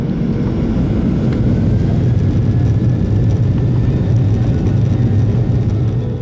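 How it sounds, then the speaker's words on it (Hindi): FlyDubai passenger jet accelerating down the runway, a loud continuous low roar with wind-like rush heard from inside the cabin. "जहाज ने रनवे पर अपनी रफ्तार कुछ बढ़ाई"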